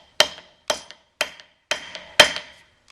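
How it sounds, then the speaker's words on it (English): Hammer tapping a wood wedge into the handle of a farrier hammer: five evenly spaced sharp knocks about half a second apart, each with a small rebound tick, close and clear with silence between. "Now when you pound the wood wedge in, just take your time."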